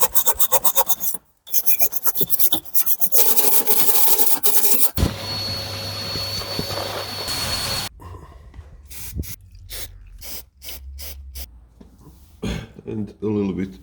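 Abrasive scuffing on the rusty body of a 2005 Mustang V6 before painting, rapid back-and-forth rasping strokes, loud and close, in bursts with short pauses, the later strokes quieter and more spaced out.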